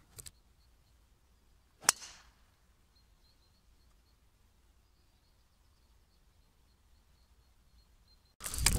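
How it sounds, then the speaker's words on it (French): A golf driver strikes the ball off the tee with one sharp, bright crack, the ball caught near the toe of the clubhead, standing alone in a quiet open setting before another loud noise at the end. "Je pars drive, ça se passe plutôt bien, léger draw, hein, je prends la balle sur la pointe du driver, ça fait un draw."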